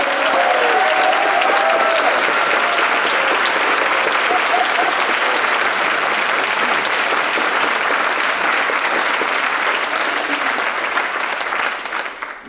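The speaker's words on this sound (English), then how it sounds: "I think they deserve a big round of applause." Sustained, loud applause from a large crowd at a games closing ceremony, dense clapping that holds steady for about twelve seconds before tapering off at the end.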